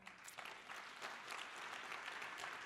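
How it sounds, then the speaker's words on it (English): An audience of educators at a conference applauds steadily, a broad, even wash of many hands clapping that carries on without a break. "If you're involved in education or if you've ever taught, would you just applaud and let me know you're out there?"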